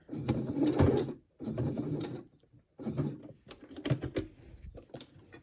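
A home sewing machine stitches through several layers of fabric for a mask in short, halting bursts of mechanical whirring and clattering, separated by brief pauses.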